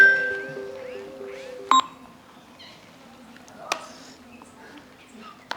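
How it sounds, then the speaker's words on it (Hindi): A mobile phone rings with a repeating electronic beeping tone for about two seconds, followed by sparse clicks and faint background sound. "फोन आवत बा"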